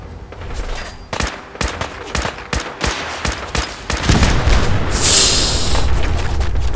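Fallout 4 combat erupts with a rapid string of loud gunshots, then heavy rocket launcher explosions boom and roll into a sustained rumbling blast, close and intense, with no one speaking.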